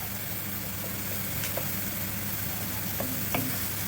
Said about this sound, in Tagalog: ito yung na-grind na natin na garlic. So, isabay na natin yan igisa.